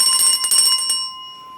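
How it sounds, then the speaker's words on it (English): Small classroom bell rung in a teacher training session, several quick bright metallic strikes ringing out with sustained high tones that fade gradually, close and clear with no talk. "So let's talk about what the bell ringing should look like."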